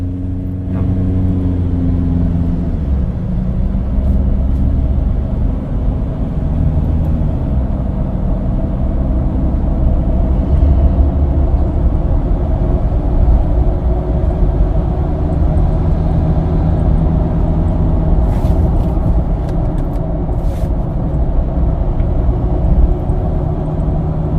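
Mud-terrain (MT) tyres droning on the road at 70-90 km/h, a loud steady low rumble and hum inside the moving vehicle, continuous throughout with faint engine tone and no talking.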